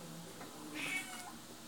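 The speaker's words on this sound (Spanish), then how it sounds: "Ahí acaba de entrar mi gato" A house cat meows once, faint and soft, in a quiet indoor room with no talking.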